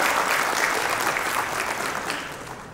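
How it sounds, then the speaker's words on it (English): A conference audience at a panel discussion claps in a steady, dense round of applause that slowly fades toward the end. "A huge round of applause for George, everyone."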